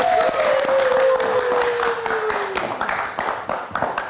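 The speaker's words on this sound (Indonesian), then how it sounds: "Emang tepuk tangannya pendek-pendek sesuai bayaran." A talk show studio audience applauds a guest, with loud, dense clapping that fades and breaks into scattered claps. A sliding musical tone sounds over the first seconds.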